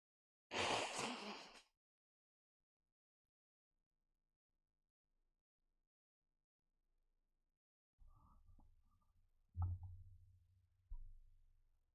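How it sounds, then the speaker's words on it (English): A single sharp, loud sneeze bursts out near the start, followed by long quiet and then a few low thuds and rumbles. "Not sure why the sneezing."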